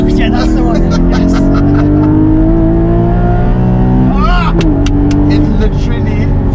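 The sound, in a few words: Porsche 718 Cayman GT4 engine revving to high RPM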